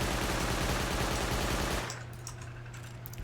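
Custom SMG firing in Rust, a rapid sustained burst of automatic gunfire for nearly two seconds, loud and close, then stopping abruptly into quieter scattered clicks and noise.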